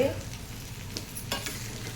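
Masala with green and dried red chillies is stirred in a pan, a soft scraping sizzle with a few sharper spoon strokes against the metal, moderately close and steady, with no talk.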